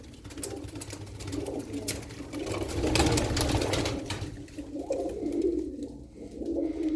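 White Adana pigeons cooing in a loft, low soft rolling coos that rise and fall repeatedly, close by, with some faint bird chatter around them.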